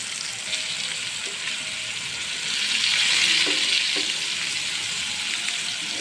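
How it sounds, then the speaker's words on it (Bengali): Slices of pointed gourd (potol) frying in oil in a pan, a steady broadband sizzle that swells louder midway with a few soft clinks of utensils, no voices. "দেখুন আমার যে পটল ভাজাটা হয়ে গেছে"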